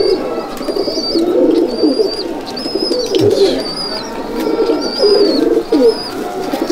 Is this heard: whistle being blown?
no